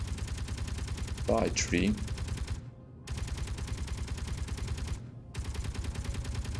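Gunfire in the game Space Engineers runs as a continuous rapid stream of shots, broken by two short pauses, while a person briefly speaks over it.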